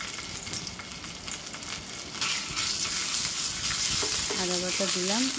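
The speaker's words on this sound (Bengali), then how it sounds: "ভালো করে আদাটা একটুখানি ওর সাথে তেলের সাথে মিশিয়ে নিচ্ছি ভালো করে" Ginger paste sizzles in hot oil with bay leaf and a dried red chilli while being stirred, a steady close frying crackle that grows louder partway through, with a brief harmonic voice sound near the end.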